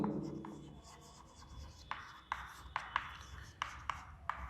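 Writing on a board during a maths class, a run of short scratchy strokes and taps at an uneven pace, fairly close and moderately quiet.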